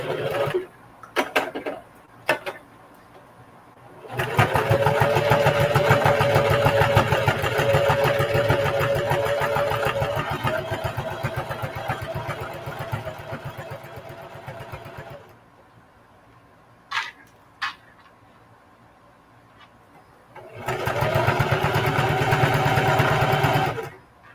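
A sewing machine top stitching a mini duffle bag runs in two long steady whirring bursts, close and even, separated by a quiet pause with a few small clicks and handling noises.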